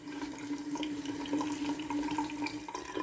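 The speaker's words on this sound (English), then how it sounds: "I'm going to wet the face with some very, very hot water here." Very hot water running from a tap before a straight-razor shave, a faint, steady close-by stream with small splashes as the face is wetted.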